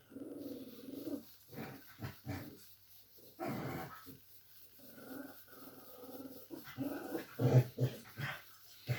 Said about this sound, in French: Oh, ils sont fatigants ces chiens